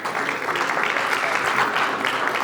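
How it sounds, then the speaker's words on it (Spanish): Audience members at a public security forum give a speaker steady, fairly loud applause, an even wash of many hands clapping for the whole stretch without any clear talking. "un aplauso para él"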